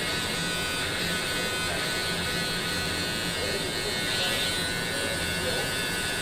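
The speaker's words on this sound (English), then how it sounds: "make the first guideline with our trimmers" Electric hair trimmers buzz steadily and close up while cutting a fade guideline at the back of the neck, a continuous hum with slight variation as the blade moves through hair.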